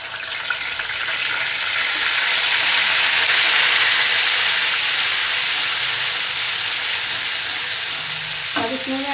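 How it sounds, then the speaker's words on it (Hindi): Ginger garlic paste hitting hot oil in a pan, a loud, bright continuous sizzle that swells and holds steady, ending with a brief clank of a utensil; no talking. "हमारा ऑयल जो है हीट अप हो गया, तो अब मैं इसमें ये लहसुन अदरक का पेस्ट डाल रही हूँ"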